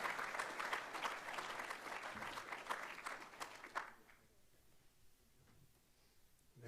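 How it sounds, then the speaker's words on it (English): An audience at an awards night applauds Gabrielle Della as she heads to the stage, dense clapping for about four seconds before fading to scattered claps with faint voices. "we can probably give Gabrielle another round of applause as she makes her way up onto the stage"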